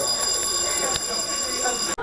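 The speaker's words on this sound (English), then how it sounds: "She's going to open that door and the alarm's going to go off." A door alarm in a classroom sounds continuously as a steady, loud, high electronic tone with harmonics, cutting out briefly near the end.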